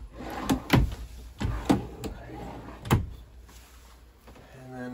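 Cabinet drawers in a 2019 Avenger 35RES RV camper opening and closing, several soft thuds and slides over about three seconds, close and moderately quiet.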